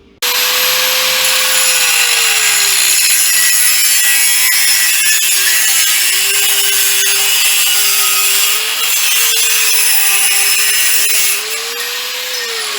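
A power tool whines loudly and continuously close by while cutting off a metal piece to make an adapter on a 1978 Ford Fairmont, its pitch wavering slightly as it bites, with no talk.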